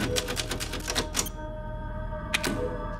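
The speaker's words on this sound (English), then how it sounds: "imagine if a zombie heard you every time you used a Resident Evil typewriter" The typewriter save sound from the video game Resident Evil: a rapid run of crisp mechanical key strikes, a pause over a low humming backdrop, then a few final clacks.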